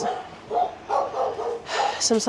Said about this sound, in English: The dogs are going off the nuts.